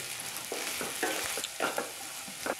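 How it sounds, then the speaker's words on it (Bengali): Onions, green chilies and capsicum stirred in hot oil in a pan, a steady sizzle broken by scraping spatula strokes, close and moderately loud with no talk. "পেঁয়াজ, কাঁচামরিচ লাড়া দিতে থাকো, ক্যাপসিকামও দিয়ে দাও ঘরে থাকলে"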